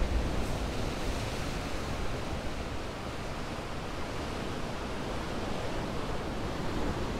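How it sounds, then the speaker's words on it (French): Strong wind and Pacific Ocean waves pounding against sea cliffs on Maui, a dense, steady roar of surf and gusts filling the whole stretch, loud and close with no voices. "écoutez ce waouh, le vent, les vagues là,"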